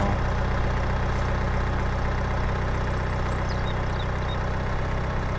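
A farm tractor in a farming game idles steadily with a constant low, throbbing engine drone that stays loud and unchanging throughout, with no talk over it.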